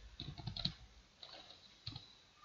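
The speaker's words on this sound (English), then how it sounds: "Now you have to simply type in the content." Someone types on a computer keyboard, a quick cluster of key clicks, a pause, then a few more taps, close and quiet.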